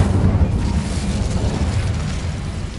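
The Incendio fire spell cast in Hogwarts Legacy roars out as a loud, whooshing burst of flame with a low, rumbling body that holds steady and slowly tapers off.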